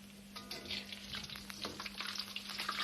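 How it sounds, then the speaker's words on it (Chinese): Lion's head pork meatballs deep-frying in a wok of oil, a steady crackling sizzle with bursts of bubbling as the meatballs settle, close and fairly loud with no talking. "炸至表面稍微发硬定型后，先捞出来"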